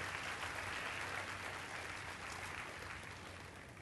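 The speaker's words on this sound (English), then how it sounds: "Can we give them a round of applause, ladies and gentlemen," Faint, distant applause from an audience at a civil services aspirants event in India, a steady wash of clapping that tapers slightly toward the end.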